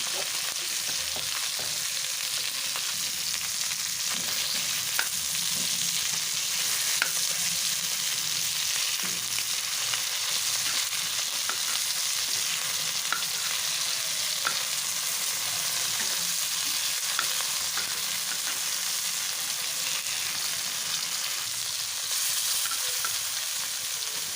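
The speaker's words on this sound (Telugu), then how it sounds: "ఇలా ఆయిల్లో అయితే మంచిగా ఫ్రై అవుతుంటే కొంచెం ఫ్రై అయిన తర్వాత ఇలా రివర్స్ అయితే చేసేసుకోవాలి అన్ని పీసెస్ని" Pieces of bangda mackerel fry in oil, a continuous loud sizzle with crackles and occasional light pan clinks, steady throughout without talk.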